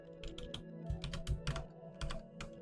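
Bursts of rapid key clicks on a computer keyboard, close and fairly quiet, coming in short irregular runs with brief pauses over a low steady hum.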